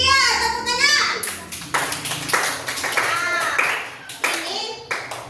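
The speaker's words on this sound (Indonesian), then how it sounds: "Iya, tepuk tangan." A classroom of children claps hands together in brisk rhythmic applause, with a teacher's voice and kids' chatter mixed in throughout.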